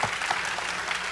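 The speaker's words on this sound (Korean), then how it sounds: "박수로 환영 부탁드립니다." Brief burst of audience applause welcoming two guest speakers at a Hyundai company event, an even crowd of clapping heard alone.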